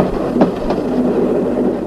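A train rolls past on rails as a radio theatre sound effect, a close rumbling rattle with a couple of sharp clacks early on, steady and loud with no speech.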